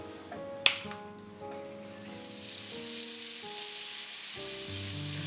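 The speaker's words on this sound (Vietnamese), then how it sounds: "Cho bơ vào trong chảo." Butter frying in a pan as mushroom sauce for pork tenderloin gets underway: a sharp tap as it goes in, then a soft hiss that swells and holds steady under faint clinks and hums.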